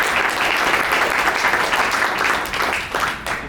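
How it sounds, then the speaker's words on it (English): An audience at an advocacy event on state regulations applauds a major donor, loud, close, continuous clapping from a crowd that holds steady and then tapers slightly near the end. "we got to give this guy a round of applause"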